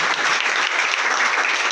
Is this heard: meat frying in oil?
no